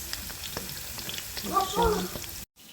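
Skewered potato pieces fry in hot oil with a close, steady crackling sizzle. A voice briefly sounds over it before it cuts off abruptly near the end.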